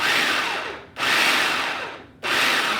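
A blender whirs loudly while blending chocolate mousse, in two long bursts of motor noise with a short pause between them, and no voice over the sound.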